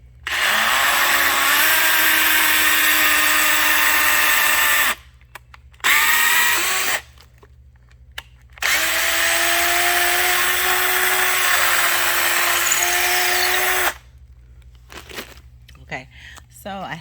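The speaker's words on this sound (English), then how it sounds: "So we're gonna drill our hole." A power drill whirs in long, loud bursts with brief pauses between, its pitch shifting slightly as it bites through material.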